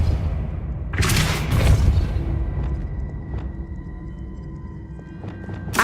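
Depulso force spell cast in the Hogwarts Legacy video game: a loud, booming burst of energy with a rushing blast tail, followed by fainter thuds and a sharper hit near the end.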